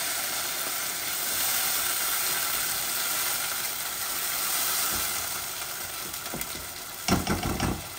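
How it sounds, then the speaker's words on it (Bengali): Onions drop into hot oil in a pan and sizzle with a loud, continuous hiss that swells and eases gently. A few clattering knocks of stirring or utensils come near the end, with no voices. "এই যে পেঁয়াজগুলা দিয়ে দিচ্ছি"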